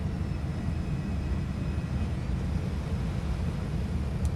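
Aircraft engine thrust in the X-Plane 12 flight simulator, a heavy jet with a full fuel load on approach: a continuous low, rumbling roar that holds steady and loud throughout, with no talk.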